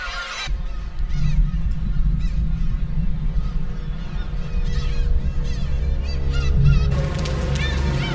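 Black-tailed gulls calling harshly while attacking an intruder near their chicks, loud repeated honking cries that overlap continuously in a dense, close colony chorus.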